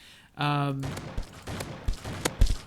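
Gunfire in the Roblox game War Simulator, a cluster of short sharp shots from a ranged weapon, spaced irregularly after a brief tonal game sound, with a voice talking over them.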